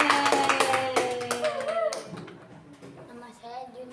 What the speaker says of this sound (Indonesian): sekarang kita kasih tepuk tangan untuk semuanya